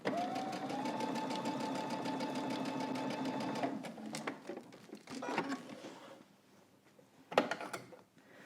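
A sewing machine stitching a coat collar, running steadily up close for nearly four seconds before stopping, followed by sparse clicks, rustling fabric and a sharp knock.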